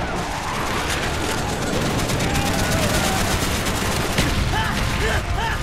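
Aircraft strafing gunfire in the Call of Duty Black Ops single-player campaign, a dense, loud continuous roar of rapid shots and impacts with layered battle noise and brief whistling sounds near the end.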